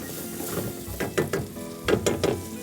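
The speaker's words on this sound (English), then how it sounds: "So I added some white wine to it. Okay. And let those onions absorb the white wine." Onions cook in a pan with white wine, giving a soft sizzle broken by a few scraping, clicking stirs in small bursts, fairly quiet and close.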